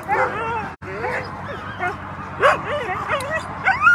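A sled dog team at a race in Willow, Alaska, barks, yips and whimpers excitedly up close, with overlapping wavering cries throughout. A voice speaks among them.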